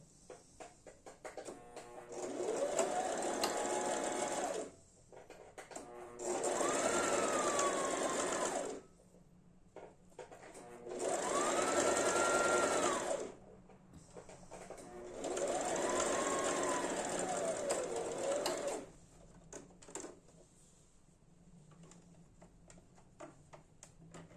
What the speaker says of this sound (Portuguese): Agora eu vou passar um pesponto na minha alça.